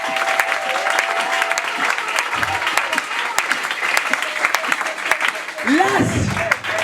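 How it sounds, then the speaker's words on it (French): A congregation applauds during a church service, with dense, sustained clapping filling the whole stretch and voices mixed in beneath it. "Acclamons très fort notre Seigneur Jésus."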